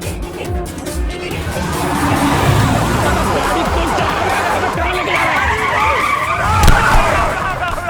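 A car speeds and skids hard with tyres screeching, a police siren chasing behind, engine roaring under loud panicked voices and a sharp impact near the end.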